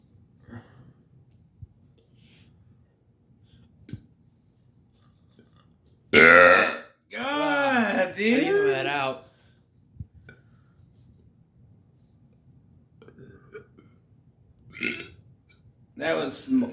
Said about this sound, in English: Burp a big one.